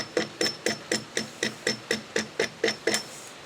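Hammer blows driving the camshaft out of a Briggs & Stratton small engine: about eleven sharp metallic strikes in a steady rhythm, roughly three per second, close and fairly loud, with no talking.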